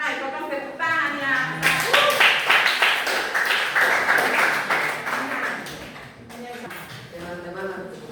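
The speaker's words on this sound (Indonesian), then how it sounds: "potong tepuk tangan ya" Children in a religion class clap together in a brisk, fairly loud burst of applause, with a voice and classroom chatter mixed in before and after the clapping.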